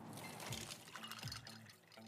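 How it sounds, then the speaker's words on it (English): Ice cubes from a brand new ice maker drop into a fresh glass of water, giving two soft clinking splashes about a second apart over a faint watery background. "Those are the sounds of a brand new ice maker dropping cubes into a fresh glass of water"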